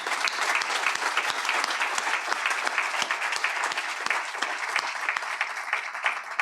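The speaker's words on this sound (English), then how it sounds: "join me in a round of applause and appreciation" Steady, sustained applause from a sizable crowd at an economic development annual meeting, dense clapping continuing evenly throughout with no voices standing out.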